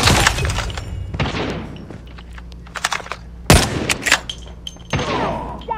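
Sharp gunshots in Call of Duty Mobile, a sniper firing: loud cracking reports, one especially heavy, scattered irregularly across a few seconds with smaller pops and rattles between them.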